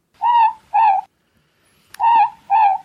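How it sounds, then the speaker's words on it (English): A morepork owl perched in a tree outside gives four clear two-note hoots in pairs, close and loud against a quiet night with no other sound. "The hoot from the moorpork that sits in our tree outside."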